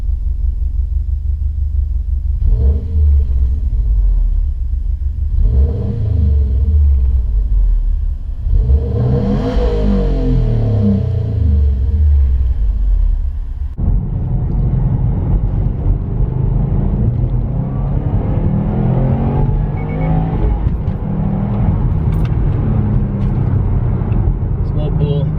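A Subaru STI fitted with an Invidia exhaust is driven hard, its engine rumbling and revving through rising acceleration pulls and gear changes, loud and continuous, with a voice speaking over it.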